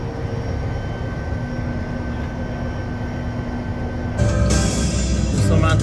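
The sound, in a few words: private jet cabin noise while descending toward Miami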